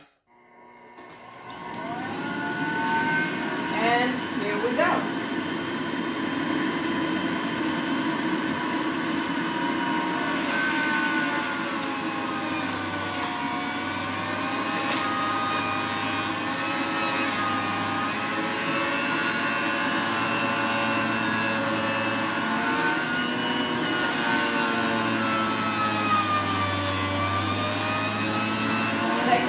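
A juicer grinds kale with a loud, steady mechanical whine and rumble that runs throughout, shifting slightly in pitch as the leaves are pushed through, with a brief spoken remark near the start.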